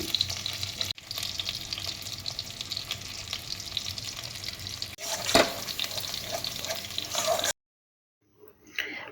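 Spice paste frying in a pan while being stirred, a continuous close sizzle with scraping strokes for several seconds before it cuts off into near silence.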